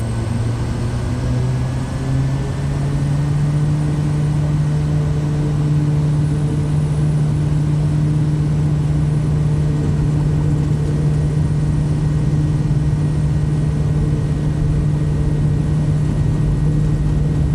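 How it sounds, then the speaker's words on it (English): Kodiak 100 turboprop engine in Microsoft Flight Simulator, a steady loud drone with a low rising hum as torque comes up for takeoff, continuous and close with no talking. "Let's bring our torque up for takeoff."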